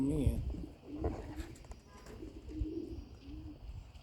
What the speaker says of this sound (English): Got a couple flying around like they professional homing pigeons or something